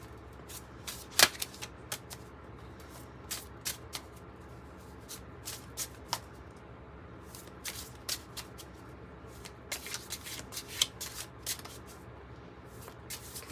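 Tarot cards shuffled by hand in a quiet room, a steady run of soft riffling and crisp snapping flicks, close and fairly quiet, with no talking over it.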